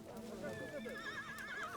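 A Moroccan Barb horse whinnies up close with a quavering, wavering call that rises and falls, with faint hoof clops underneath.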